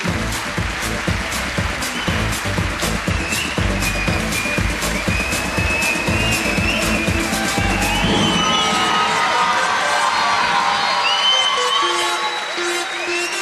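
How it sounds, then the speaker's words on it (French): An awards ceremony audience applauding arriving guests, with dense sustained clapping, cheers and whoops from a large crowd filling the room loudly throughout, thinning slightly toward the end. "je vous propose de les applaudir"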